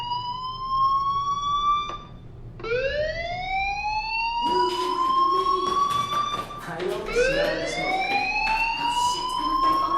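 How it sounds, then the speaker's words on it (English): A school fire alarm in the video game Life Is Strange wails continuously in rising, repeating tones, loud and steady throughout. "Hey, do you hear that fire alarm? That means you should be outside."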